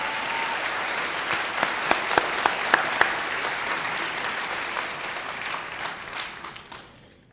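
Steady audience applause fills a university spring convocation hall, with a few sharper claps standing out before it tapers off toward the end.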